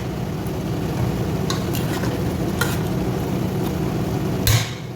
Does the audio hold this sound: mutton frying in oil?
yes